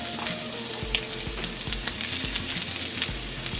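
Garlic mushroom pieces sizzle in melted butter in a pan over medium-low heat, a steady close frying hiss with light clinks and taps as more pieces go in, no voices.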